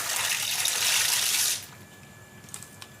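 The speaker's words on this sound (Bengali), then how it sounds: "জল তো দেখতেই পাচ্ছ গরম হয়ে গেছে। তো আমি পাস্তাটা দিয়ে দেবো এর মধ্যে।" Pasta tipped into a pot of hot water on a home stove, a loud watery splash and gush for about a second and a half, then quiet with a couple of faint clinks.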